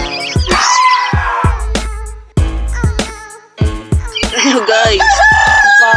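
Chickens cluck and a rooster crows loudly nearby, with sharp clucks, squawks and a long crow, busy and close throughout.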